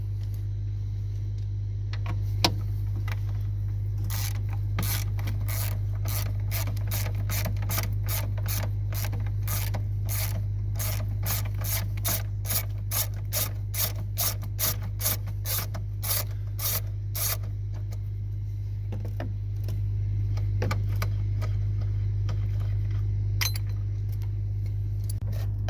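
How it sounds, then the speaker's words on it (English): A 13 mm ratchet loosens the battery hold-down strap nut on a Jeep Renegade, giving a long run of quick, evenly spaced metallic clicks over a steady low engine-bay hum, with a pause and a few more clicks near the end. "Grab our ratchet, our 13 millimeter."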